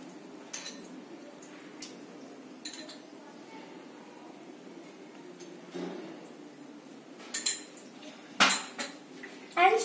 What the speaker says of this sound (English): Now take a tawa and put some oil in it.